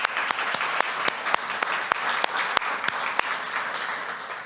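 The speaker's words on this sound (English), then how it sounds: "So I'd just like to have a little round of applause for them," Audience applause at a startup demo day for a female founders program, dense steady clapping from a crowd with sharp individual claps standing out, moderately loud and without speech throughout.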